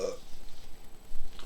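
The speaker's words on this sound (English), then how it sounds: "Sorry for that burp." A single low, rumbling burp from someone commentating on a wrestling match, close to the mic and fairly quiet, lasting about a second with no speech over it.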